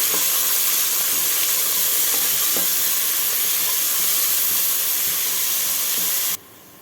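Three large onions sauté in a pan for a goat tripe curry, giving off a constant loud sizzling hiss with faint crackles that runs evenly and then cuts off abruptly near the end.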